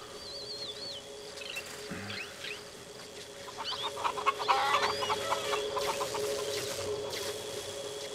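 Chickens clucking in the video game The Sims 3, a series of cackles and clucks building toward the middle, set against a steady background hum with a few chirpy tones early on and no talk.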